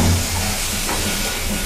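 Tomatoes and spices sizzle in a pan over a raised gas flame, giving a loud, steady, broad hiss that continues without break and with no voices.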